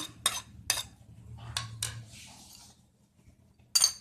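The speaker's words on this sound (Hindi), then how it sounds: "सारे सामान को हम मिक्स करेंगे।" Chopped potato, capsicum and cabbage being stirred together for vegetable pancake batter, giving several sharp utensil clinks against a bowl with softer scraping between, close and fairly quiet, no talking.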